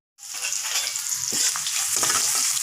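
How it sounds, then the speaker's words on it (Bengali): Chopped onions hit hot oil already holding crushed whole garam masala, cumin and a dried chili, bursting into a loud, continuous sizzle that stays strong throughout, with faint stirring scrapes. "এখন পেঁয়াজ কুচিগুলো দিয়ে দিচ্ছি।"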